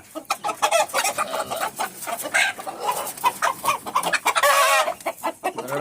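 American Brahma chickens on a farm cluck repeatedly in a busy, overlapping chorus of near and loud calls, with a longer drawn-out squawk near the end.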